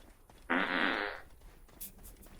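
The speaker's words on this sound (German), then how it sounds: "ist das ein echter Furz?" A single fart bursts out loud and close for about a second, a broad buzzy blast that then fades into quiet room noise.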